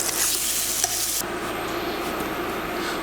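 Salmon fillet sizzles steadily in a hot titanium pan, with a loud burst of frying as the fish is flipped early on, then a continuous sizzle settling in alone without talk.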